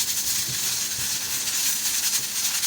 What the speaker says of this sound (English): when your pressure cooker starts to make that noise and starts to spin